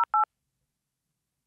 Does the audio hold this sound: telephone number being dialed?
yes